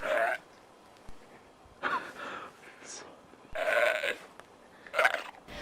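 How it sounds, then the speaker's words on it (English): An animal gives several hoarse, bleating calls from some distance, separated by quiet gaps, like a goat or pig calling in the woods. "While we never get a clear shot of this animal, it sounds like a goat or a pig."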